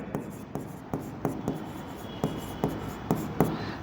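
Pen or chalk strokes from a teacher writing accounting entries, a series of short, regular taps and scratches, about ten in under four seconds, close and distinct with no voice.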